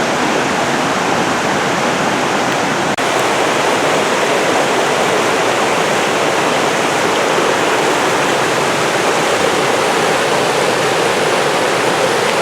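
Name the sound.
rushing water of Fryingpan Creek, Mount Rainier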